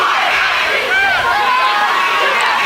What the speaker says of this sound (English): As the Morton crowd is fired up on their side.